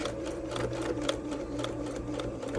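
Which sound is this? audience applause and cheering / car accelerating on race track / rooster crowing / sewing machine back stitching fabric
sewing machine back stitching fabric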